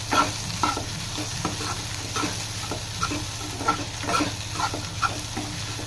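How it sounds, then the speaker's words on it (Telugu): Carrot egg fry being stirred in a pan after the stove is switched off, with repeated rhythmic scrapes and taps of a spatula over a low, steady sizzle, close and moderately loud, with no speech. "బాగా మిక్స్ చేసుకోవాలండి."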